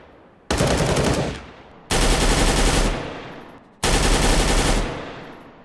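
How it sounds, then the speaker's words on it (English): Counter-Strike CSGO 2012 gunfire, three separate bursts of rapid automatic fire, each about a second long, loud and punchy, with a reverberant tail fading between bursts. "and the gun sounds are much more punchy."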